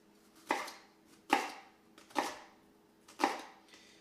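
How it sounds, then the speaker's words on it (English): A knife cuts through onions on a cutting board in four distinct, evenly spaced chops, close and crisp against a quiet background. "I like to cut mine in half,"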